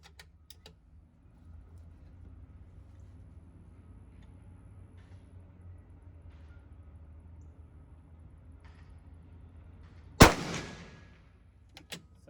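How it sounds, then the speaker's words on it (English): A single 6BR Norma rifle shot fires during load development testing, one sharp loud crack with a short decaying tail outdoors after a quiet stretch of low background noise, with no talking. "This is the 4th shot."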